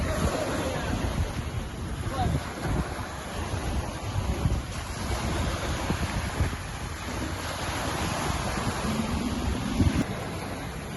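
Pacific Ocean waves wash onto the Washington coast in a continuous roar of surf, heavily mixed with gusting wind buffeting the microphone throughout.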